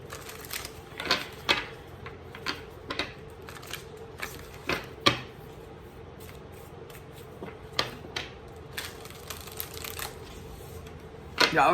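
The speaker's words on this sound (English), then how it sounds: "that was a good, clean little shuffle right there." Cards riffled and snapped in repeated short bursts, crisp and close, with soft handling noise between the flutters.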